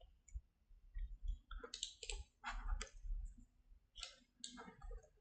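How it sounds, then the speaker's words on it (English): Computer mouse clicking while working in 3D clothing pattern software, a string of crisp, close clicks in irregular clusters, quiet and alone with no talk. "Left click the second pattern."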